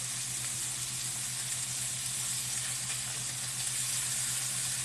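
Hamburger patties sear in a pan with a constant, even sizzle and hiss that stays steady from start to finish, fairly close, over a low steady hum.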